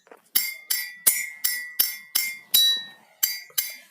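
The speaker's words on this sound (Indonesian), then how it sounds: "seperti itu bunyi yang dihasilkan dari kelima gelas" Drinking glasses, five of them, are tapped one after another to make tones, giving eight sharp, ringing clinks at a steady pace, close and distinct, each decaying quickly.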